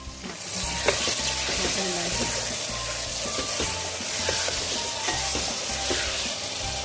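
Chopped tomatoes hit a pan of frying potato slices in a home potato curry, setting off a loud, steady, crackling sizzle that runs unbroken throughout with light scraping of stirring mixed in.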